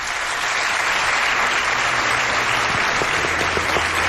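A studio audience applauds steadily and loudly throughout, a dense wash of clapping at a live Spanish-language radio broadcast event, with no voices over it.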